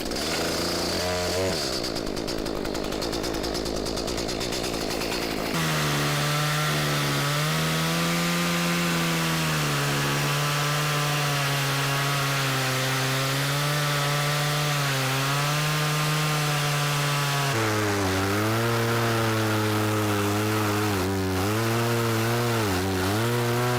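A chainsaw cuts down through a tree stump for a flush cut, its engine revving loud and steady with pitch shifts as the chain bites into the wood, easing briefly between passes.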